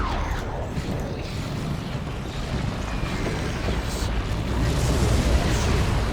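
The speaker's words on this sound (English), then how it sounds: "I'm going to drop my nuke here though." A nuke detonates in the strategy game Dawn of War 2: Retribution, a sustained roaring rumble of low booming noise that swells slightly toward the end, loud and continuous without speech.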